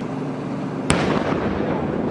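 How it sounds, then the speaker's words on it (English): Federal agents set off a controlled explosion across the street, a single sharp blast with a sudden crack followed by a rumbling decay, heard from a moderate distance over steady background noise. "This is just one of 4 controlled explosions federal agents conducted this afternoon across the street"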